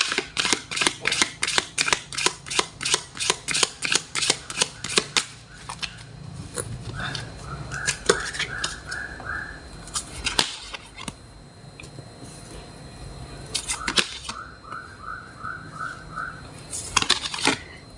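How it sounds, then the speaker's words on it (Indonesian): Tarot cards are shuffled in quick, crisp riffling bursts, a steady run of sharp flicks followed by scattered card slaps and soft rustles, close and alone. "Kita akan shuffle kartunya."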